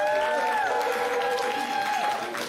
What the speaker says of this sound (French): Un petit dernier applaudissement pour les Vogue s'il vous plaît.